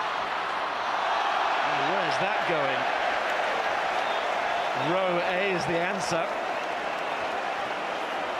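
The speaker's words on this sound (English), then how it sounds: "Well, the crowd jeering Tom Vandel there" Rugby crowd at a Premiership final between Sale Sharks and Leicester Tigers, a steady loud stadium roar jeering Tom Vandel throughout, with a commentator talking over it.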